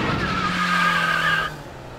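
A car skids to a halt in an audio drama effect, a loud tyre screech over a low engine hum that holds for about one and a half seconds, then drops off abruptly into quieter rumble.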